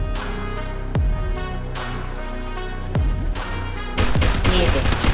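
Rapid gunfire from the mobile battle royale game Free Fire comes as dense repeated shots with a few sharper blasts. The shooting is loud and continuous and grows heavier toward the end over background game music.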